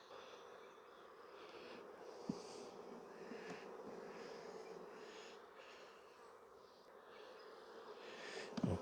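Honeybees buzzing softly around hive frames as nucs are made, a faint, continuous drone with a few louder bumps and handling sounds, no voices.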